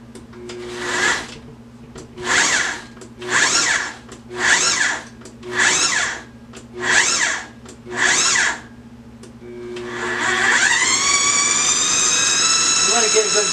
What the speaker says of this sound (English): Now I'm going to put my little lid on my mixer. And I'm going to start pulsing it first.